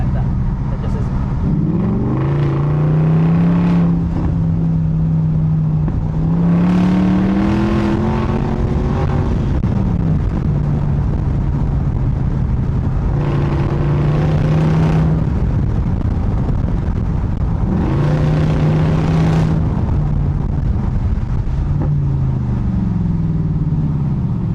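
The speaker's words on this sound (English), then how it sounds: "That's a naturally aspirated V8." A BMW 650i's naturally aspirated V8 revs up and down in repeated loud swells, each climb rising in pitch before dropping back to a steady idle, close and dominant throughout with a voice briefly audible.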